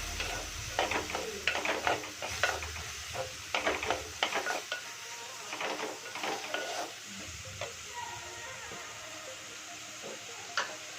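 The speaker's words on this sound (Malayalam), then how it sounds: "ഉള്ളി നന്നായി വഴറ്റാം." Onions sauté in a pan, with bursts of scraping and stirring clatter over a crackling sizzle. The clatter is busier early on and eases into a quieter fry.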